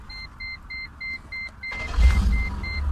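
A Mercedes G-Wagon answers its key remote's held unlock button with a steady series of evenly spaced electronic beeps, then a whirring power-window motor that runs alongside continued beeping as the windows lower.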